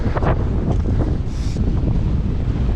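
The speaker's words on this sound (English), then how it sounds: "A little windy" Strong wind buffets the microphone on a mountain bike trail, a steady loud roaring rumble with no voices.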